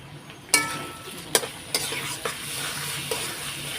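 Spice paste of ginger paste, cumin, turmeric and Kashmiri chilli powder frying with boiled chana dal in a pan, a steady close sizzle broken by several sharp scrapes and knocks of a spatula stirring.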